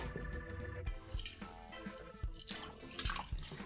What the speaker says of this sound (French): Une fois que c'est fait, j'y ajoute de l'eau.